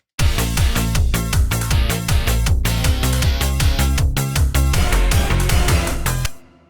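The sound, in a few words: Eurobeat instrumental section recreated in FL Studio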